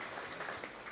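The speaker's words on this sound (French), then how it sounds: "vous pouvez applaudir." Church congregation applauding during a French sermon, a steady patter of clapping hands that fills the brief moment.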